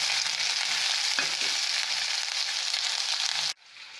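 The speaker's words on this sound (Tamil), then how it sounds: "இப்போ அந்த கடுகு உளுத்தம் பருப்பில் இந்த வெங்காயத்தை போட்டுக்கலாம்." Sliced onions dropped into hot oil with popped mustard seeds and urad dal give a loud, dense, close sizzle that holds steady, with a brief stir partway through. It drops off sharply near the end.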